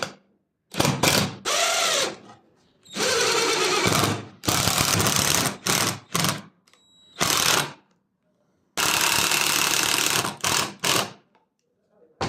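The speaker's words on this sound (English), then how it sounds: "This way, we can drive the screws into the wood much more easily." A power driver runs 8 cm screws into scrap wood in a string of short whirring bursts separated by silences, loud and close, with one rising-pitch drive near the start.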